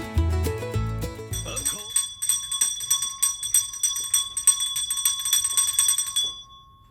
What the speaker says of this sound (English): Ring for the beer bell.